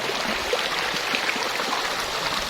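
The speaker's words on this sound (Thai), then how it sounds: "ลำธารน้ำใสๆนี่ สวยงาม" A clear forest stream at Khlong Makluea Chanot in Sarika, Nakhon Nayok, flows with a steady, broad rushing and gurgling of water, close and continuous, with no voices.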